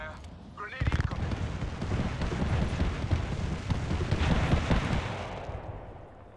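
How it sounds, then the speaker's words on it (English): Video game combat with a grenade explosion and gunfire: a sharp blast, then dense, sustained rumbling bursts of shots and booms filling most of the stretch before it trails off. "Grenade incoming."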